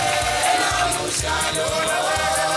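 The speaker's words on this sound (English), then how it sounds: "A round of applause for yourselves." Conference audience applauding at a closing session, a continuous dense roar of clapping with crowd noise and low rhythmic music underneath, loud and steady throughout.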